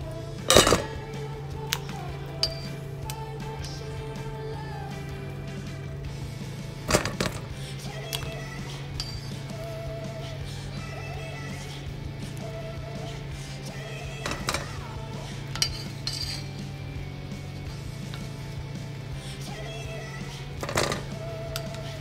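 Boiled potatoes lifted from a pot with metal utensils, scattered sharp clinks and taps against the pot over a steady low hum, intermittent and close.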